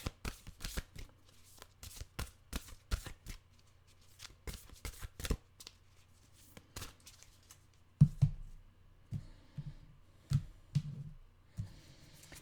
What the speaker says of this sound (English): let's get a Nature's Whisper oracle card out